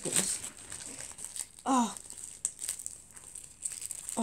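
Tightly wrapped plastic packaging on a beauty box is pulled and unwrapped, giving sharp crinkling and tearing bursts with pauses between, while a woman briefly exclaims nearby.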